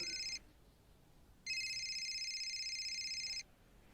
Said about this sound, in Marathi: अभि फोन वाजतोय, जरा बघतोस का?